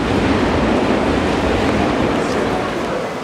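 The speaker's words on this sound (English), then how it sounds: "there's like a shopping street that's right next to train tracks, and that's exactly what this is. As you can hear right now." Steady broadband rumble of a train passing on tracks right beside a shopping street near Ueno in Tokyo, loud and continuous throughout with no clear speech.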